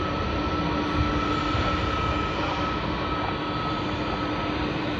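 A LATAM Airlines airliner in Harry Potter livery arriving at Sydney Airport gives a loud, steady jet roar that holds level throughout, with a faint whine riding above the broad rumble.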